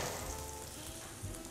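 Aromatics fry in hot oil in a home kitchen pan, giving a quiet, steady sizzle that crackles on alone for a moment with no voices.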